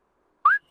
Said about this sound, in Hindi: मुझे लड़की समझकर सीटी मार रहे हो क्या?